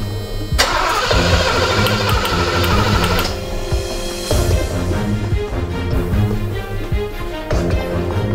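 A car engine runs with the ignition coil unplugged during a cold start valve check. It gives a loud, steady mechanical drone with a shift in tone partway through, and no talking is heard.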